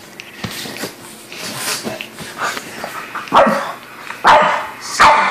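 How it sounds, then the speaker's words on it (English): A small pug makes a series of short growly barks and yips, close and loud, getting sharper and more forceful toward the end. "She growled."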